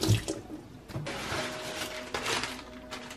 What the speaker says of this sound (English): First, I wash my hands because, you know, we gotta.